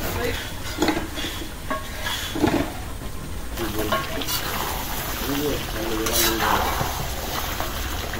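A ladle scrapes and clanks against a pot as beef kala bhuna is stirred and turned, with soft sizzling underneath and a person talking over the rhythmic stirring.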